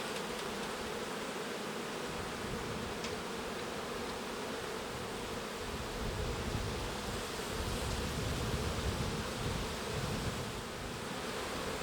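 Honey bees in an opened beehive, a dense, steady buzzing hum from many insects close by, loud and continuous, with faint rustling.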